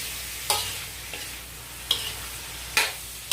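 Carrots stir-fried in a pan for pansit canton (chow mein): a few sharp spatula scrapes and clacks at irregular intervals over a faint, steady sizzle, close and fairly quiet.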